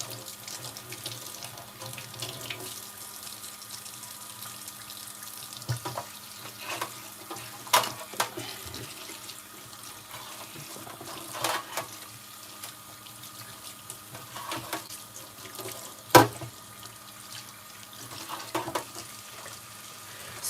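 A tap runs steadily into a sink while a vintage Coach bag is washed by hand, with intermittent splashes, sloshing and handling noises over the constant stream of water.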